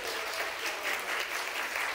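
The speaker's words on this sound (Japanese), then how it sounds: "皆さん拍手でお送りください。" An audience applauds at the close of a stage greeting at an independent film festival in Fukuoka, a steady, even wash of clapping from a seated crowd, moderately distant and unbroken.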